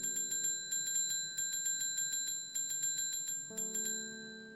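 Rapid bursts of bright metallic dings from a hand bell in the Strange Horticulture plant-shop game, rung in quick clusters of five or six with short pauses, ringing steadily over a low soft background hum that shifts near the end.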